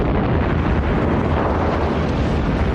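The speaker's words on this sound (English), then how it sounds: "the Japanese bombed the northern city of Darwin" Bombs exploding during the Japanese air raid on Darwin make a loud, continuous rumbling roar of blasts with no pause and no voices.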